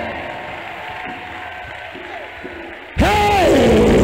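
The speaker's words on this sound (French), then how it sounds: "Put your hands together." Audience applause at a talk, breaking out suddenly and loudly partway through right after a speaking voice, with a whoop over the clapping.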